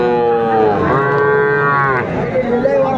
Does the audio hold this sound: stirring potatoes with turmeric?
no